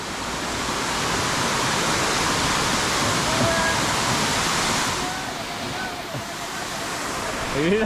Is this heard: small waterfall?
yes